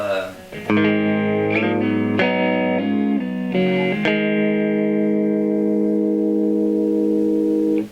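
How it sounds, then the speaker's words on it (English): Clean electric guitar notes and chords ring out through a Line 6 amp on the clean channel without distortion or reverb, several plucked tones followed by a long sustained chord fading at the end. "My line 6 is playing on clean channel, no distortion, no reverb."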